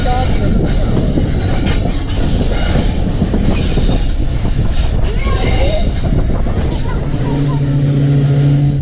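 The Jand passenger train runs on rails between Attock and Jand, with a loud steady rumble of wheels, clattering carriages and a rising squeal of wheels on track near the end; voices are faintly present.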